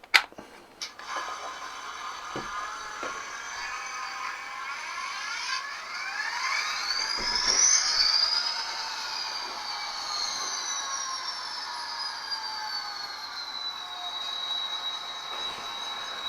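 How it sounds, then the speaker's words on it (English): Bachmann N scale DCC diesel locomotive from a Roaring Rails train set powering up and running on an Easy Track oval, giving a steady whir with rising and falling wheel squeal and high-pitched tones, continuous and close throughout. "we're going to plug it in and give it power now and see if the diesel starts up"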